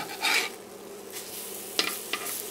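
Vegan plant-based burger patties sizzling in a pan just after flipping, a soft steady fry with a spatula scrape near the start and a couple of sharp clicks of utensils later.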